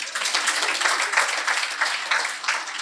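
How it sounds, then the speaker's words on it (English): An audience at a swearing-in ceremony in the Gambia claps steadily, a dense, even patter of many hands at moderate distance, with no voices over it. "Clap for that."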